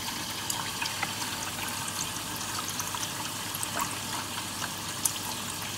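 Bucket filling with cold water from a tap, a steady hissing splash of water running continuously at moderate level with no talk.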